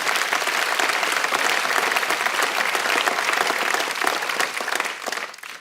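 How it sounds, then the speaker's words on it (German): A church congregation at an ICF Zürich service breaks into loud, dense clapping, a crowd applauding vigorously and evenly for several seconds before it begins to thin out at the end. "wenn wir klatschen, klatschen wir richtig"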